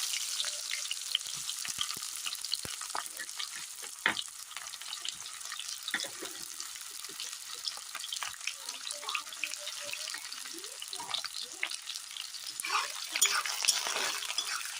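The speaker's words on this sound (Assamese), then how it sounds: "পিঁয়াজখিনি ভালকৈ ভাজি লওঁ।" Onions with bay leaves fry in hot oil in a wok (kerahi) for a jackfruit curry, giving a steady close crackling sizzle throughout with scattered pops and spatters, no talk.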